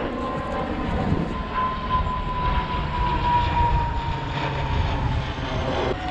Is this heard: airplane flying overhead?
yes